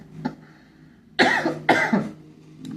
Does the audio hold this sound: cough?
yes